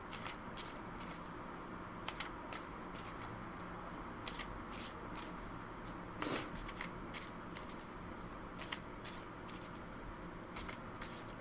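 A tarot card deck is shuffled by hand again and again, soft rapid riffles and slides repeating close up in a quiet room, with no talking.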